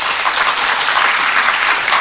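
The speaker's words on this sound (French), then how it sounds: "Messieurs, dames, applaudissements pour Monsieur Boff." Steady, close applause from a conference audience at a gaming show, a continuous bright patter of clapping with no break.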